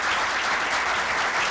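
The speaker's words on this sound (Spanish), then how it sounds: "Un aplauso, por favor" Steady applause from an audience, a thick even patter of many hands clapping at once, filling the short moment without pause.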